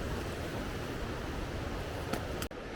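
A strong winter stream in a forest near Coquitlam, British Columbia, rushing steadily with a dense, continuous broadband roar that stays loud throughout.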